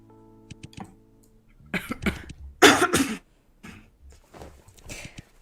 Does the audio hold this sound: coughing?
yes